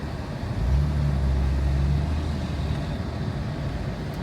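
A car out on its first drive, its engine a steady low rumble that swells briefly as it pulls away, then settles into a continuous road drone with no talking.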